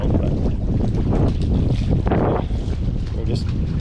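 Strong wind gusting outdoors around a Hunter sailboat being refitted, loud buffeting roar striking the microphone throughout, with voices mixed in under the noise.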